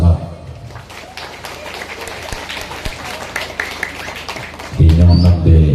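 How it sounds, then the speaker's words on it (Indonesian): Scattered audience clapping at a community religious gathering in Cilacap, moderate and uneven under a voice speaking over it, with a louder swell of sound toward the end. "tepuk tangan Bu Camat"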